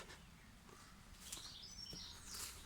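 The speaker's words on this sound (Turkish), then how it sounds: "Cıvıl cıvıl kuşlar ötüyor." Birds chirp and tweet in a wet, rainy village countryside. The calls are scattered and fairly faint, carried over a soft, steady patter of background noise.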